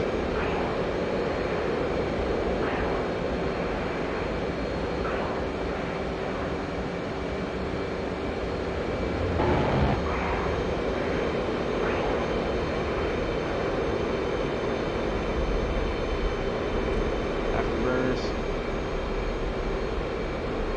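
Jet engine roar with afterburner lit in a VR dogfighting flight game, a constant, dense drone that swells slightly midway and holds steady throughout, without any talking.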